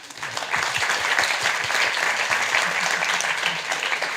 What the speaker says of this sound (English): let's give her an applause.